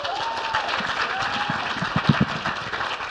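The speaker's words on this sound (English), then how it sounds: "So please give a big round of applause to Kareem Salama." Banquet audience applauds a performer with scattered clapping, a few loud claps standing out close by, while a faint voice talks in the room.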